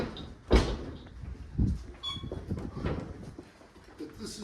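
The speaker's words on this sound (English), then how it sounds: "when you step on it, it rattles" A trap door in the floor of a historic narrow-gauge railroad repair shop rattles when stepped on. Faint, hollow clunks and knocks come at uneven intervals against a quiet room.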